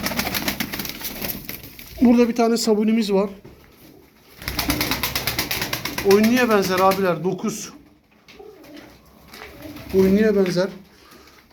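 Hungry Çapar tumbler pigeons coo in several bursts of rolling, throaty calls, close and fairly loud, while someone talks over and between them.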